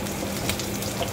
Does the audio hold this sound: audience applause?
no